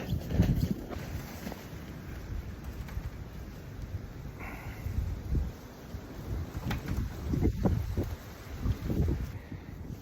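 Strong winter wind whips against a glamping canvas tent, a White Duck Regatta 13, gusting and rustling steadily with buffeting noise on the microphone and no talk.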